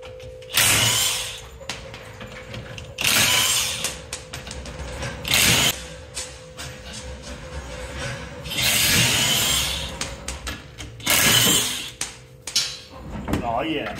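A ratchet works loose the lug nuts on a Miata wheel in bursts of rapid clicking and whirring, close by, with people talking in the pauses.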